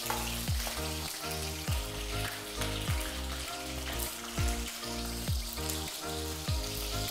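Green chilies frying in hot oil for a Northeast Indian taro root and dry fish dish, a dense, steady sizzle like rain with crackling bursts, close and with no talking.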